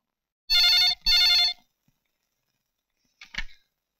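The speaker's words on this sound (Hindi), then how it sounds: "अर्जुन सर, अर्जुन का फोन" A telephone rings loudly in two long, close bursts, then stops; a short, fainter electronic chirp follows after a pause, with no talking.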